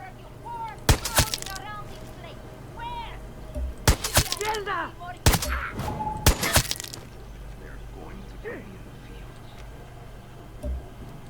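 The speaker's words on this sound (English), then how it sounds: "There's a gunshot." Gunshots in Far Cry 6 during a hostage situation crack out in several sharp bursts, some doubled, over about ten seconds, with a voice talking between and under the shots.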